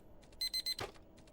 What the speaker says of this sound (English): I smack my alarm clock without looking.